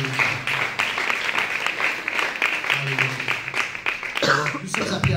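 Applause from a church congregation during a French-language sermon, a steady patter of clapping with voices and exclamations mixed in throughout, loud and close.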